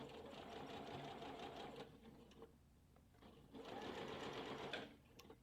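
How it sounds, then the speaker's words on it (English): Sewing machine stitching through the middle of a serged seam on an 18-inch doll crop top, running in two steady motor bursts with a brief pause between. "We're sewing right through the center of the serging."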